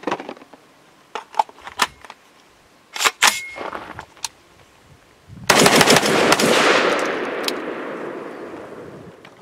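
Rapid blasts from a 12 gauge AR10 with a Genesis Arms conversion upper firing Fiocchi Shooting Dynamics number 8 shot, loud sharp reports spaced irregularly, ending in a long ringing, decaying roar after the final shots.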